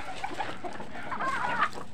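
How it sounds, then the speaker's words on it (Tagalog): Backyard chickens cluck softly at feeding time, with a few short, close calls scattered over steady low farmyard noise and no talking. "Yan, magpapakain tayo sa mga manok."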